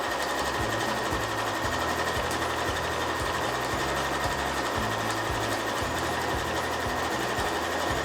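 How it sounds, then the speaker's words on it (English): A sewing machine stitches vertical quilting lines across a fabric bag panel, running in a steady, continuous mechanical chatter close by, with no talking. "Now all I need to do is quilt the rest of the panel, and I'm only going to do these vertical lines"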